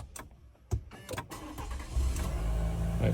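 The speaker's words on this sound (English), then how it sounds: "Truck still starts, so that's good." A GMC Sierra truck starts by push button: a few sharp clicks and a brief cranking whir, then the engine catches and settles into a steady, close idle rumble.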